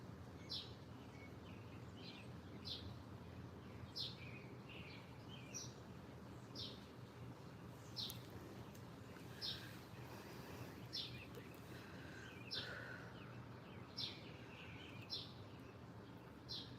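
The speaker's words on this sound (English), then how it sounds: "Yeah, I can still hear the birds." Faint bird chirps repeat at a regular pace over a low, steady outdoor hum, distant and soft throughout.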